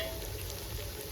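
Whole spices such as cinnamon, cloves, coriander seeds and cardamom fry in oil in a pan for biryani, giving a soft, steady sizzle that stays faint throughout.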